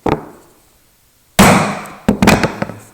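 Chisel struck into wood for a footstool build, heard as one sharp mallet tap followed by a quick cluster of several more taps, loud and close with no talking.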